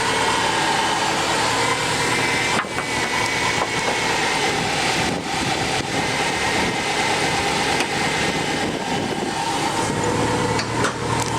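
A turbocharged sleeper car making about 350 horsepower idles at a Japanese auto auction lot, giving a loud, steady engine rumble with a constant broadband hum and occasional small dips.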